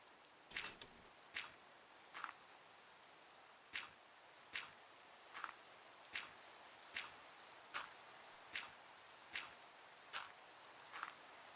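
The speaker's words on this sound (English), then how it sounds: "Is this a storm or just regular rain?" Rain falling in Minecraft Java Edition, heard as a faint even hiss beneath a regular series of soft, evenly spaced footstep-like taps repeating about every second.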